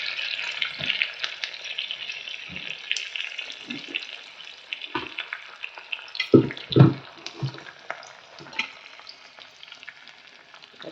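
Mustard seeds, curry leaves and other spices crackle and sizzle in hot oil for tempering a moong dal and palak dal, a steady broadband hiss with several louder pops and spatters near the middle, no talking.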